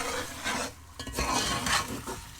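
Meat for a home-style turnip and meat curry being stirred in hot oil in a pot, with close scraping strokes over a steady sizzle and no voices.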